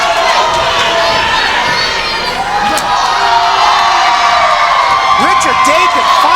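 A wrestling crowd at a PCW event roars steadily, dense cheering and shouting filling the whole span at high level, with whoops rising near the end.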